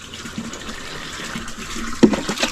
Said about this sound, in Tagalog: hanggat naglalagay tayo ng tubig sa drum